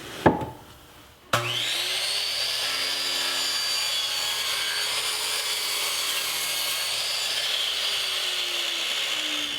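A power saw cuts through 1/2-inch birch plywood with a stop block setup, a loud, steady whine starting abruptly after a brief knock and holding evenly to the end.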